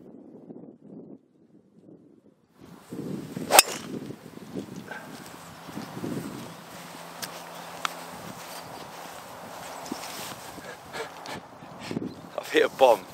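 A golf driver strikes the ball from the tee with a single sharp, close crack, heard amid wind noise and someone talking before and after the shot.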